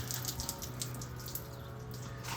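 Water poured onto orchid plants brought out from a greenhouse, a steady faint splashing and trickling stream that runs without a break throughout.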